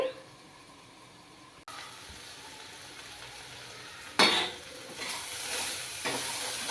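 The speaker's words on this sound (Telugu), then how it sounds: "ఇలా మధ్య మధ్యలో కలుపుకుంటూ ఉండాలండి బాగా వేగినంత వరకును" Barabati curry sizzles and fries in a pan as a spoon stirs it, with soft scraping clatter against the metal and a brighter burst of sizzling partway through, close and without speech.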